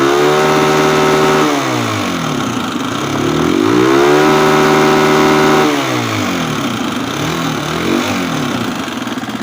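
An old motorcycle engine with no rev limiter revs hard to full throttle, rising and falling in repeated loud, close sweeps between brief drops toward idle.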